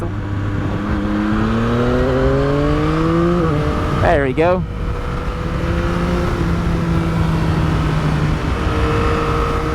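A Yamaha XSR900 motorcycle on the road, its engine climbing in pitch through several gears as it accelerates past a large truck, with steady wind roar throughout. A rider speaks briefly over the engine.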